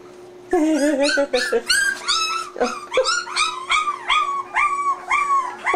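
Puppies whimper, yip and fuss in a close, continuous run of high, wavering cries and squeals. A low steady hum sits underneath.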